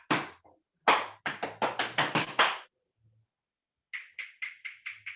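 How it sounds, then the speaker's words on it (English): Rhythmic body percussion: a quick burst of sharp, loud claps, stomps and slaps, a short pause, then a faster even run of six crisp hand claps or taps, close and clear with no talking. "Step, clap, hit."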